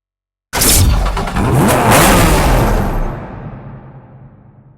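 A Porsche 911 GT2 RS with a water-cooled twin-turbo six-cylinder boxer engine roars loudly in a racing game. It blasts in abruptly, holds a sustained high rev for a few seconds, then fades away.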